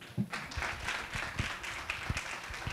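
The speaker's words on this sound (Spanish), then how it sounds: "Con su aplauso la recibimos" Modest audience clapping greets a presenter at a hospital talk on pediatric disease prevention, a short patter of hands from a small group, fairly faint.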